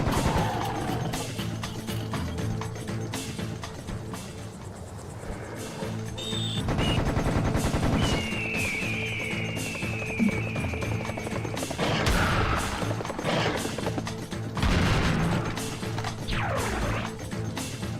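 Gunfire in a video game: rapid bursts of shots and crashing impacts over a constant game soundtrack, with whooshing effects and no voices.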